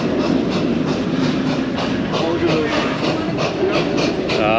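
A theme park safari train ride rolls steadily along with continuous rumble and rhythmic clickety-clack, loud and close throughout with no speech.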